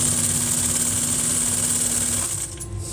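A strong industrial sewing machine runs close and loud with a steady, rapid mechanical whir and buzz, then slows and fades near the end, stitching welt and chip board on a chair during upholstery.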